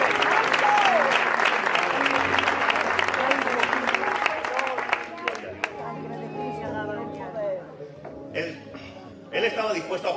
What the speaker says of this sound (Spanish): Yo creo que se merece un aplauso la sangre de Cristo.